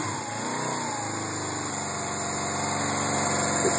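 A 1980 Suzuki GS450 S motorcycle engine idles steadily after a cold start, a close, even mechanical drone with a constant throb and no talking.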